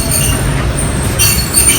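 A Pakistan Railway train stands at a station, with loud steady rumble and high metallic wheel squeal rising near the end, close and continuous with no voices.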